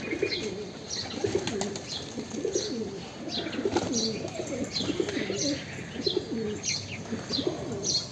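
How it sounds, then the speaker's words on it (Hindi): Pigeons circle above a rooftop before landing, their repeated low coos and chirps continuous and fairly close, with faint flutters mixed into the outdoor background. "अब देखिए ये कबूतर ऊपर से आ रहे हैं पर हिम्मत नहीं कर पा रहे कि छत पे उतरे"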